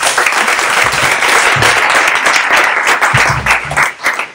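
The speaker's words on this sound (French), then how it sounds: "on peut les applaudir" A room full of attendees at a conversational marketing breakfast panel applauds the speakers, a loud, dense, sustained clapping that carries evenly through the clip and tapers slightly at the end, with no voices heard.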